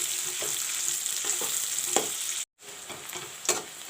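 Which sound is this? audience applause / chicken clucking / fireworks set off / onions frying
onions frying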